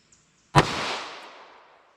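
A single sharp gunshot from a revolver firing .32 H&R Magnum hand loads over a chronograph, a sudden loud crack with a decaying outdoor echo trailing off over about a second and a half.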